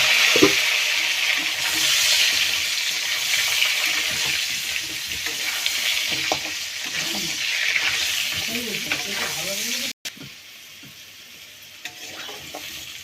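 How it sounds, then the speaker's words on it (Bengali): Potatoes and jackfruit sizzle and fry in a pan, stirred now and then, with a steady hiss and clatter of utensils close by that drops quieter near the end. "আলুর সাথে হেঁচড়টা ভালো করে ভেজে নেব"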